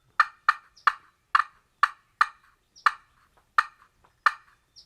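A rapid series of sharp, clipped turkey cutting notes from a slate call, about a dozen bursts in uneven rhythm, close and loud with no talk.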